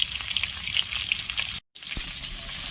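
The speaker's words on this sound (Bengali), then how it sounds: "একদম লাল করে ভেজে নেব" Fish heads sizzle and crackle steadily in hot oil, frying to a deep red, with bright spitting pops throughout and a brief dropout midway; no one talks.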